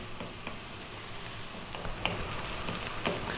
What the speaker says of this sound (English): Let me continue cooking these onions a little bit